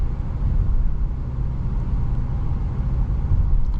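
A 2022 Audi e-tron GT Prestige electric car drives on a road, heard from inside as a steady, low road and tire rumble with no engine note.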